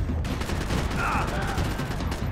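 Rapid bursts of gunfire in the shooter game Max Payne 3, crackling steadily under the game's background noise.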